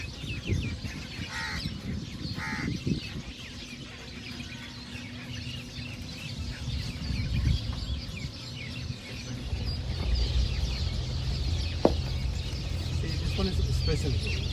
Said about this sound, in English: This one is special. The sound of the birds.